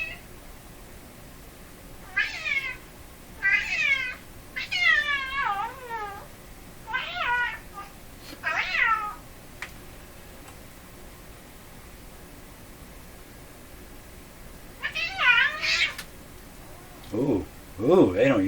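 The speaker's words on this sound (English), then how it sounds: "Uh-oh, the other cat. I'm being ganged up on." Two house cats squabbling indoors, a series of loud drawn-out yowling meows in bursts, pausing midway then resuming with growling howls over a steady background hiss.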